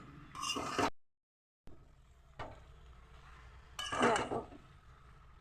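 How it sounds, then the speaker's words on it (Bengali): Curry, here a jackfruit (echor) dish, is stir-fried in a pan with bursts of spatula scraping and metallic clinks. A short, fully silent gap breaks it, then a louder scraping burst follows near the end. "ভালো করে ধীরে ধীরে একে আরও কষাবো"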